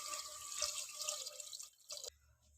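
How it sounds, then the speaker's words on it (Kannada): Water is poured into a pan of tempered spices for a quick breakfast dish, a soft, steady splashing and trickle that stops abruptly near the end, heard alone without talk. "ನಾನಿಲ್ಲಿ ನೀರು ಹಾಕ್ತಾಯಿದ್ದೀನಿ"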